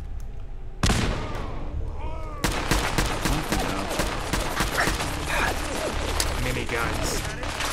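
Grenade explosion and gunfire during a Fallout 4 firefight: a sudden loud blast, then a second heavy burst followed by dense, rapid volleys of shots and clattering mechanical noise, with voices faintly mixed in.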